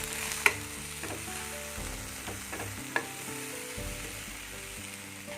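Corn kernels stirred in a frying pan, a steady sizzle with scraping spoon strokes and a couple of sharper clinks against the pan, close by and with no talking.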